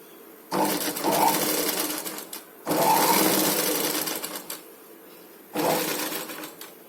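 A foot-pedal sewing machine stitches fabric in three loud, close bursts of rapid mechanical whirring, each lasting a couple of seconds, with short quiet pauses between them.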